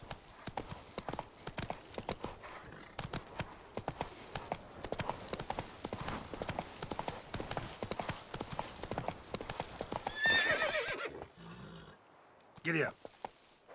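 Hoofbeats of Roach, a horse in The Witcher 3 game, clop in a steady galloping rhythm through most of the stretch, fairly close, before fading out near the end with a brief louder burst.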